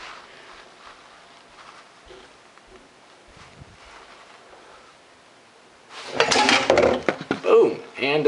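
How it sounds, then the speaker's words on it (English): Fork and sponge tumble into a pile of dishes as part of a Rube Goldberg machine, a sudden loud burst of clattering and clinking that follows a quieter stretch of faint rustling. "And there goes our fork and sponge."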